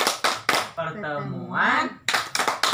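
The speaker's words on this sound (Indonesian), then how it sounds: "Tepuk P2K2." A group chant of "Tepuk P2K2" at a family-capacity training session: bursts of sharp clapping open and close the clip, with a rising sung chant of several voices in between.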